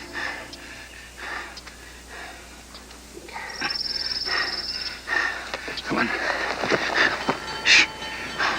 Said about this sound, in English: What's that? What? You heard? It's a train.